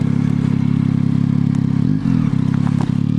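Close, loud Yamaha Tracer 9 GT 2021 motorcycle engine thrumming steadily, with a brief dip and shift in pitch midway as it downshifts, then resuming its rhythmic throb.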